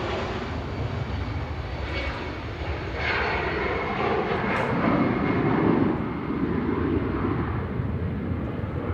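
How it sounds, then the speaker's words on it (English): Lufthansa Airbus A319 in classic livery departing Manchester Airport for Frankfurt, a moderate jet engine rumble that builds slightly midway and holds, heard from a distance. "Lufty in the classic livery with flight 941 to Frankfurt"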